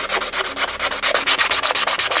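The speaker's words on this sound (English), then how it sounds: "Just putting it on there and sanding away." Sandpaper rasps against a utility knife handle made of colour pencils in quick, regular back-and-forth strokes, close and loud, about eight strokes per second, with no talking.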